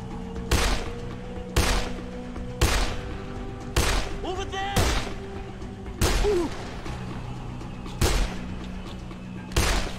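Gunfire in Dead Island, eight sharp, loud shots spaced roughly a second apart over a steady game hum, with faint clatter between some shots.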